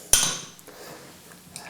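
A fork in a dish while beating two eggs gives one sharp, close metallic clink, followed by faint scraping and light taps.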